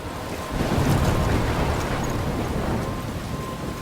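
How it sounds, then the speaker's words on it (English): Thunderstorm in the video game Life is Strange: a steady, loud roar of wind and heavy rain with a deep rumbling low end that swells slightly early on and then holds constant, with no voices. "I'm trapped in a storm?"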